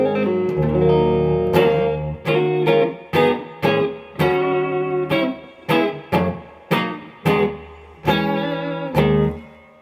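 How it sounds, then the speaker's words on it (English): Electric guitar chords strummed in a repeated rhythmic pattern, each stab ringing out with a washy, lingering tail, played loud and clear. "Too much reverb, I'll take that out"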